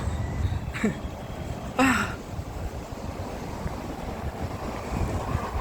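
Steady wind buffets the microphone with a low, rumbling roar throughout, broken by a couple of brief knocks.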